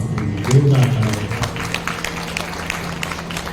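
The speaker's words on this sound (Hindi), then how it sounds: "जोरदार तालियां।" An audience at a Shrimad Bhagavat Katha religious gathering claps heartily: scattered, moderately distant claps over a steady low electrical hum, with a brief swell of noise near the start.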